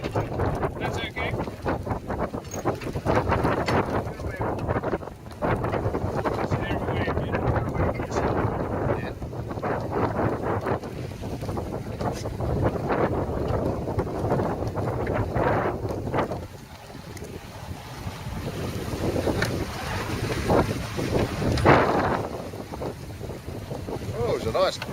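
Wind rushing over the microphone aboard a sailing yacht setting out from Falmouth, a loud, steady blustery roar with gusts and a brief lull, mixed with water and boat noise.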